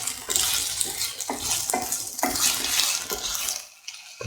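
Mixed potato and eggplant are sautéed in a pan, with repeated spatula scrapes and clatter against the metal over a soft sizzle, in a steady stirring rhythm before a brief pause.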